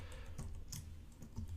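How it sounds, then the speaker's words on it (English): A computer keyboard is typed on while writing code in the Visual Studio IDE, giving a faint, steady run of soft key clicks with one or two slightly sharper taps. "when I hit tab on the keyboard"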